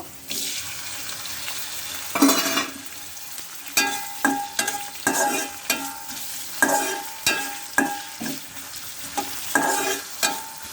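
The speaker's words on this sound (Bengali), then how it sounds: "শুটকি মাছটা ভেজে নিব" Dried fish (shutki) frying in a kadai hisses steadily up close, while a spatula scrapes and knocks against the pan in a regular run of stirring strokes, with no one speaking.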